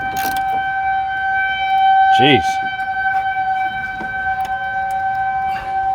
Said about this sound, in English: is the tornado siren they play every Saturday at noon just to test it.